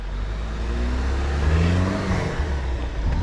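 A Jeep Wrangler Rubicon's engine revs hard off-road, climbing through a strained, rising roar with sweeping pitch as the tires fight for traction, loud and close throughout.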